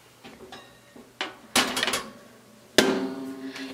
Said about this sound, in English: Now I'm going to pop that in my oven.